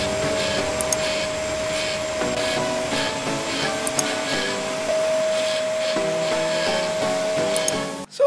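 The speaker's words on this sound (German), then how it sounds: "Damit bohren wir jetzt mal die Löcher ein." A power drill with a 10 mm Forstner bit bores holes into wood, giving a steady whirring motor hum with a sustained whine and brief pauses between holes; close and moderately loud.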